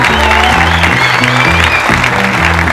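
An audience applauding a performer, dense and loud clapping throughout with musical tones sounding underneath.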